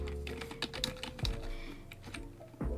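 Quick keystrokes rattle on a computer keyboard while text is written into a Minecraft book and quill, a brief close burst of uneven clicks with no talking.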